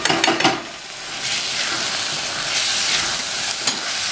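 Soaked moong dal sizzles and fries in a pan for Karnataka-style thecha, a close, steady crackling hiss with a few stirring scrapes at the start and end, no talk.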